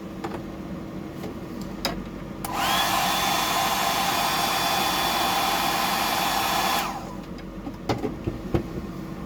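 A hair dryer switches on and blows steadily for about four seconds to dry paint on a handmade glide mullet fishing lure, with small handling taps before and after.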